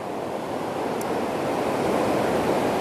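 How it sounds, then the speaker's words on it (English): Steady, loud roar of rushing water from a big, fast waterfall in Valdez, Alaska, a dense continuous wash with no talking. "That's a big waterfall, it's a very fast waterfall"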